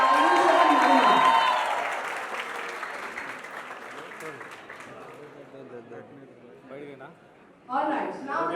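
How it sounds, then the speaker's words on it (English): A college audience applauds and cheers loudly for performers Ayush and Mahima, a strong burst that gradually fades, with voices and crowd noise rising again near the end. "can we have a huge round of applause once again for Ayush and Mahima?"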